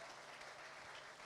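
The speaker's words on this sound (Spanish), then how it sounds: "Dele un aplauso a Jesucristo y voy a bendecirle" Applause from a church congregation during a worship service, a continuous, even patter of many hands that sounds faint and distant, heard briefly and alone without any voices.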